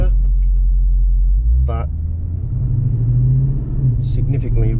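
Lexus ISF driven on the road after a MAF tube upgrade and tune, its engine giving a steady low rumble from inside the cabin, with someone talking over it throughout.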